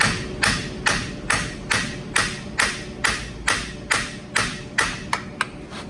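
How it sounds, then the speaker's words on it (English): Sharp metallic hammer strikes on the axle of a Dodge Ram 1500 front differential ring out in a steady rhythm, about a dozen blows, each hit with a quick decay, no talking. "Now we can take a hammer, hit right here,"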